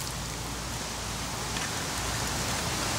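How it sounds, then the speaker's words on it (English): Heavy rain pours steadily, a dense broadband hiss with a low rumble beneath, constant and close throughout with no voices. "it's a lot of rain."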